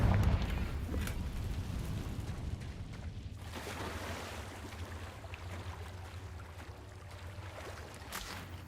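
Confringo blasting spell going off in Hogwarts Legacy, a heavy low explosion at the start that rolls off into a long rumbling tail, followed by scattered softer crackles and debris-like noises, with no talking.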